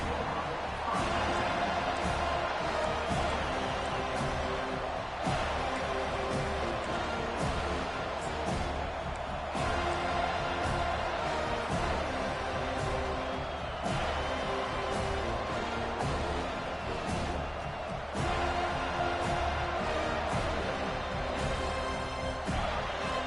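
A large stadium crowd roars steadily through a football game kickoff and return, a dense continuous wall of cheering with occasional sharp impacts and swells, heard throughout at strong, even loudness.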